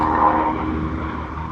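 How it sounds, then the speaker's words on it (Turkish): A truck roars loudly past near the seaside at Kestel beach in Alanya, a dense broadband engine and tire rumble that swells early and stays strong across the short moment, with no talk. "Kamyonun sesi çok bağıra bağıra geldiği için"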